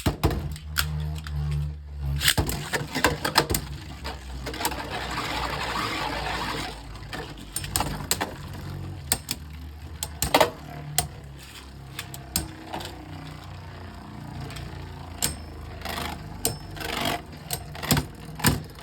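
Beyblade Burst Super Hyperion spinning tops clash in a stadium after winder-launcher starts, giving dense rattling, scraping and sharp metallic clicks with repeated impacts and brief bursts throughout.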